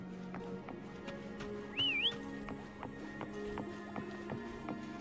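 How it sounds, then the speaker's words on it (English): A short rising-and-falling whistle sounds once to call a horse in a video game, set among rhythmic hoofbeat clip-clops and ambient game sounds. "Try whistling."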